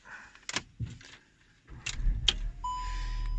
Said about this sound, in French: Hop, voilà, donc on va démarrer la voiture.